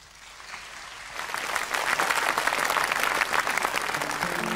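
Audience applause at a live Vietnamese comedy stage show rises from quiet into a loud, steady ovation of many hands clapping, filling the room without any talk over it.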